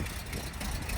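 A 1985 Monte Carlo SS with a 305 V8 runs steadily on a cold day, its low, even engine rumble holding close and continuous for a brief moment.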